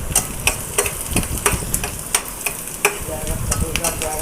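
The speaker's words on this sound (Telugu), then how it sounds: "ఉల్లిపాయ ముక్కలు అలా గరిటతో కలుపుకోవాలండి." Chopped onion pieces frying in oil and stirred with a ladle, making a loud continuous sizzle broken by regular scraping strokes and light metallic taps close by.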